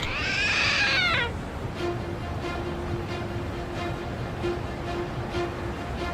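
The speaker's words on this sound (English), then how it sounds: "It meowed, so it's a trick statue." A cat's meow rings out from a trick statue in Lost Judgment, one loud drawn-out call at the start, followed by quieter game ambience with a faint steady tone and soft ticks.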